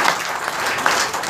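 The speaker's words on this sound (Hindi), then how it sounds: "ताली बजाएं प्लीज।" Audience clapping at a spiritual talk in a hall, a loud, dense burst of applause lasting about a second.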